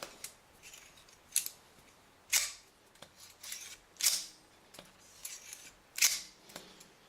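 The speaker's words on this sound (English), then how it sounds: "Take our safety wire pliers, clamp on again, and we're going to go ahead and twist it again." Safety wire pliers clamping onto and twisting safety wire during a BMW M52 engine overhaul: a series of sharp, close metallic snaps and clicks spaced irregularly, with soft handling noise between them in a quiet workshop.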